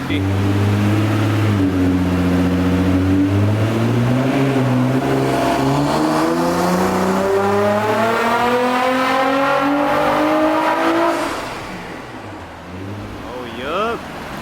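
A loud Nissan GT-R Nismo engine, running on 91 fuel, drones and climbs steadily in pitch as the car accelerates, then drops away and eases off near the end.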